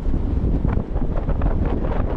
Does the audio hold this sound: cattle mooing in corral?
no